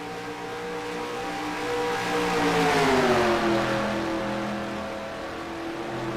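Race cars overtake on the Charlotte Springs Speedway, engines droning at a distance and swelling as they pass, a rising then falling pitch, with no voices over it.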